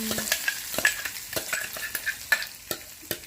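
Tomato chutney being stirred in a pan, a spoon scraping and clacking in a steady series of sharp strokes over a faint sizzle, close and fairly quiet with no voices.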